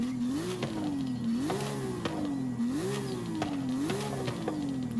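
A Porsche 911 GT3 RS's 4-litre naturally aspirated flat-six revs up and down in repeated rising sweeps, steady and loud, with a synthetic video-game quality from Forza Horizon 5.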